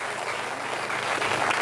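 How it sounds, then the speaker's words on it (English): A crowd at a protest against mass immigration at Stormont applauds steadily, dense clapping close by that holds at full strength and swells slightly toward the end. "A round of applause here for Ken, folks, just to get his spirit lifte"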